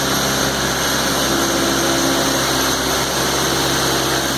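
Kubota B3200 compact tractor fitted with a BH77 backhoe runs steadily, a constant close engine drone with hydraulic whine and no break for the full length.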